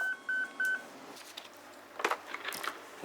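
A telephone at a public prosecutor's office being dialed: three clear, evenly spaced dial tones, followed by faint clicks and rustling handset noises, with no talk.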